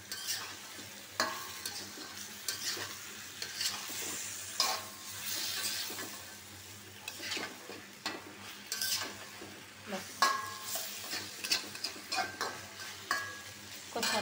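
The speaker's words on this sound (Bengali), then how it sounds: "এখন আমি চুলাটা কমায় দিয়া 5 মিনিট কচুটা মাছের সাথে কষায় নেব।" Taro sautéing with shrimp in a pan over lowered heat, a soft steady sizzle with repeated scraping and stirring strokes of a spatula, close and without talking.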